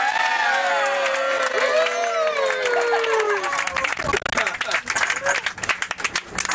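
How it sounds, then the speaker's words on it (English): Bus passengers break into scattered, then building applause, with many hands clapping close by beneath singing and chatter. "Everyone claps."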